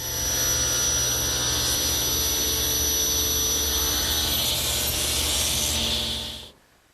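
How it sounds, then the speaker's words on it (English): A woodworking machine squares a table blank in one pass, a loud, steady, close whine and hiss of cutting that runs unbroken for several seconds and then cuts off sharply. "I'll make one pass through, then turn the piece over, make a second pass,"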